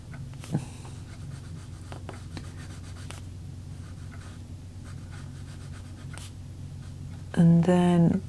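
A coloured pencil lays down a light layer of shading on paper in a colouring book. Close, soft, continuous scratchy strokes with a few small taps run under a low background hum, and a voice starts talking briefly at the end.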